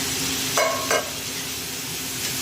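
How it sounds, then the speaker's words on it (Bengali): Ridge gourd cooks in a pan while a poppy seed and mustard paste is stirred in, giving a steady low sizzle broken by two brief scraping strokes of the spoon. "তারপরে আমি এই পোস্ত সর্ষে বাটাটা দিয়ে কিছুক্ষণ নাড়াচাড়া করে"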